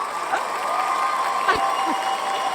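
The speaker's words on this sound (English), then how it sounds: "A bit of clapping, Sarah." Participants on an online call clap together, a brief burst of scattered, soft applause lasting a couple of seconds, with voices talking over it.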